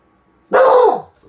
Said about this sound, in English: Dibs, he'll bark at a butterfly.